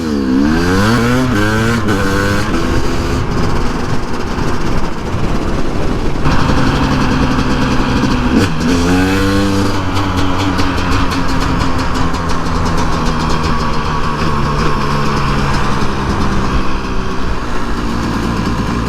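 A KTM two-stroke dirt bike engine running on two-year-old non-ethanol gas idles loudly and steadily at close range, with a few rough blips and small revs as it struggles, and no talking over it.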